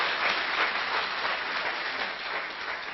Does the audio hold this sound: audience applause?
yes